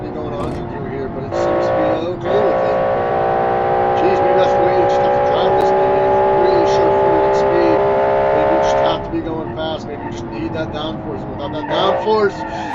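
A race car engine roars loudly and steadily through a chicane in a racing video game, a sustained high whine holding for several seconds before easing off, with commentary spoken over it.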